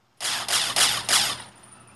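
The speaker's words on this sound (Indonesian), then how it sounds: "Menembak kau ya." Video game gunfire rings out as four loud, rapid blasts in quick succession, each with a bright crack and short tail, with no talking over them.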